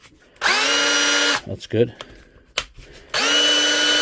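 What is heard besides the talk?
DeWalt drill running in ordinary drill mode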